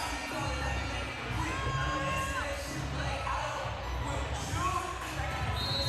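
A basketball crowd of Hurricanes fans cheers and roars inside a civic center during a championship game, with steady dense noise, scattered whoops and shouts, and a bench player checking in to stir the stands.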